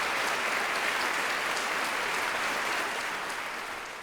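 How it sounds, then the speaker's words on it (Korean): Applause from a seated audience at a book concert on Ganghwa Island, a dense, steady wash of clapping that holds for several seconds before gradually tapering off, with no voices over it. "다 함께 한번 큰 박수로"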